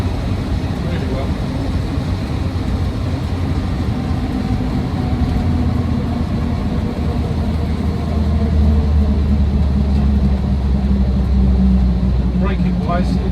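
A 1962 Land Rover Series IIa 88-inch soft top with a 2.25 petrol engine drones steadily and loudly from inside while driving, a constant low rumble that swells slightly toward the end.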